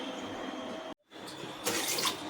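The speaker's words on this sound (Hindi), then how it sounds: "तो फिर मैंने आधा कप यहाँ ले लिया पानी" Tap water running into a cup in a home kitchen while making suji chana dal halwa, a steady close splashing stream, briefly cut off, then resuming brighter and fuller.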